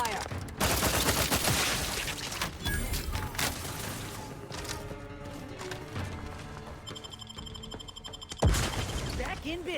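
Rolling gunfire from The Outer Worlds, a role-playing shooter, rattles almost continuously under in-game voices and effects, with one sharp louder hit near the end.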